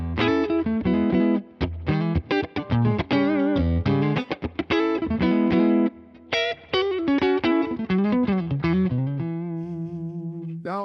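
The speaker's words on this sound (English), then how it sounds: "I can add the reverb from the Imperial preamp right into the front of the amp here" An electric guitar plays a run of chords and notes through a Tone King Imperial preamp feeding an amp, with spring-style reverb tails ringing after each phrase and a sustained chord fading at the end, no talking.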